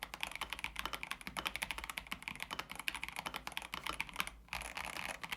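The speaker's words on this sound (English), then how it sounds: "now, most importantly, the typing sound" Continuous fast typing on a stock Epomaker Shadow X mechanical keyboard over a mouse pad, a dense close stream of crisp key clacks with a brief pause near the end.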